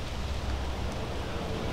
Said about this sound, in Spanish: La lluvia está cada vez más fuerte allá afuera.